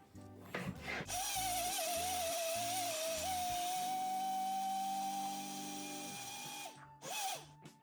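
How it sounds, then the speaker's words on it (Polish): A blender motor whirs loudly for several seconds grinding potatoes, starting with short bursts and ending in a brief pulse after stopping. "najpierw musimy przemielić wszystkie ziemniaki"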